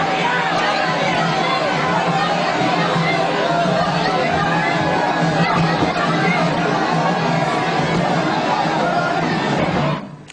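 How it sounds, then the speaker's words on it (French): A dense crowd chattering and cheering continuously along a presidential motorcade at a national celebration in Bizerte, Tunisia, a loud, steady roar of many voices that fades abruptly at the end. "le JT montre en longueur la foule qui l'acclame tout au long du cortège"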